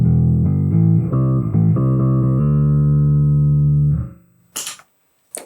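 Bass tone from an EFX Harmonics Bass Machine pedal on a pedalboard: a few low picked notes, then one long sustained note that fades out, followed by brief faint clicks and quiet.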